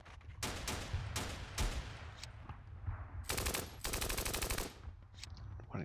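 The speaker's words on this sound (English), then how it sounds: "let's shoot these squads here" Gunfire in the wargame Steel Panthers, set in the 1980 Iran-Iraq war, comes as loud separate shots followed by longer rattling bursts of automatic fire, heard without voices.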